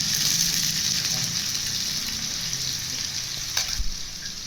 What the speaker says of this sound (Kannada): ಈರುಳ್ಳಿ ಫ್ರೈ ಆದ ನಂತರ ಕರಿಬೇವು ಹಾಕ್ಕೊಂಡಿದ್ದೀನಿ